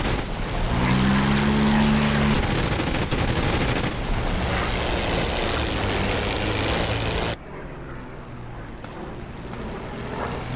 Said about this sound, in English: I can hear the snipers.